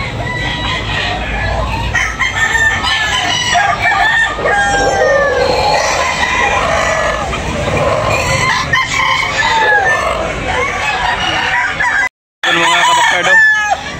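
Several roosters crow repeatedly over steady clucking and a busy chicken market din in Tabunok, Talisay, with a brief silent break near the end.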